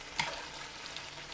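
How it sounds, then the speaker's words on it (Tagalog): Chicken pieces browning in oil in a frying pan, a soft continuous sizzle with light crackles and a brief stirring clatter near the start, quiet and close. "Pinapa-brown pa natin yung ating chicken."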